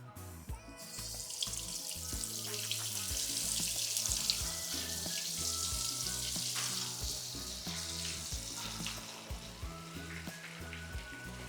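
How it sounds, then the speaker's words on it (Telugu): Chicken drumsticks deep frying in hot oil, a steady loud sizzle and crackle running throughout with no talk. "నేను డీప్ ఫ్రై చేస్తున్నా"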